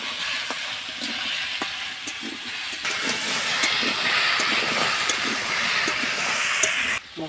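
Green chilies and fried spice mix hit hot oil in a fish curry with potato and taro, giving a steady close sizzling hiss with crackles and pops that swells midway and runs throughout.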